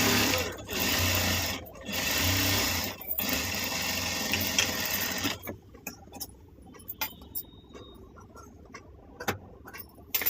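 A household sewing machine runs in loud bursts stitching fabric for a few seconds, then stops, followed by scattered quieter clicks and handling sounds.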